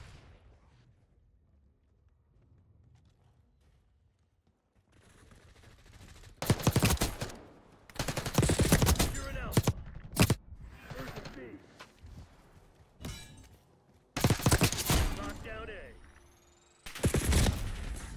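Loud bursts of automatic gunfire in the video game Black Ops 6 come in repeated clusters after a quiet opening, with sharp cracks and echoing tails between volleys.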